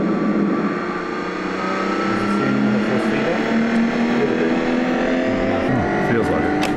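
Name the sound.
190 horsepower front wheel drive car engine driving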